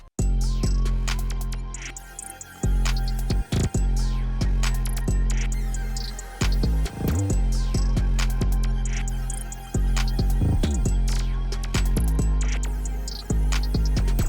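A finished trap beat built in FL Studio at 135 BPM, with heavy 808 bass, hi-hats and melodic layers. It plays loud and steady with a driving rhythm, and drops out briefly a few times.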